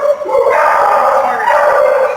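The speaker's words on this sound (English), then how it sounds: "These poor little dogs that just want to get adopted." A dog at an animal shelter howls and whines in a sustained, wavering cry, loud and close, with a faint voice briefly underneath.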